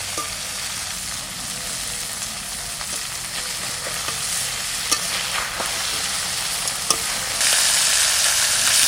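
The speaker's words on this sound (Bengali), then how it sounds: "আবার ছোট মাছও ভাজা চাপাই দিচ্ছি" Small fish frying in oil in a pan, a steady close sizzle that holds for the whole stretch and grows a little louder near the end, with a few sharp spatters and no voices.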